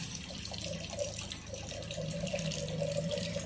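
Water pours in a steady, gurgling stream with a ringing tone, fairly quiet and continuous, with no talking.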